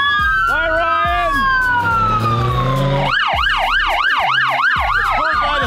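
Loud police sirens wail nearby, a long rising-and-falling tone giving way to a fast repeating yelp, with several sirens overlapping.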